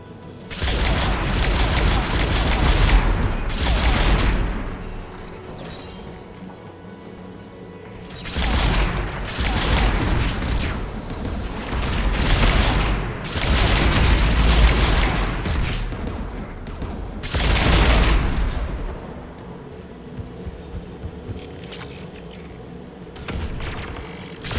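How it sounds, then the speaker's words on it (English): Anti-aircraft guns firing in the video game Mass Effect 3, sustained rumbling barrages in several long bursts with booming bass, loud and dense, separated by quieter lulls. "AA guns ahead of us."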